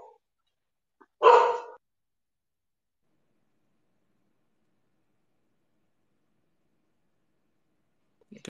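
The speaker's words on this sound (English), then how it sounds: "My dog went off." A dog gives one short, loud bark indoors, heard alone, then the room stays quiet until a faint sound at the end.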